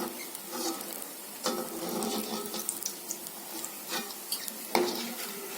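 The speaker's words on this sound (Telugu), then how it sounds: "ఈ మాత్రం మీడియం సగలో పెట్టుకొని వేయించుకుంటే చక్కగా కావలసిన కాలంగా వేయించుకోవచ్చు మనం" Potato and green pea bondas deep-frying in oil over medium heat, a steady close hiss of sizzling with scattered sharp crackles and light clinks, no talking.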